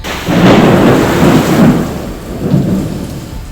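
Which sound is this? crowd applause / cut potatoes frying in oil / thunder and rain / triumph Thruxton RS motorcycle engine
thunder and rain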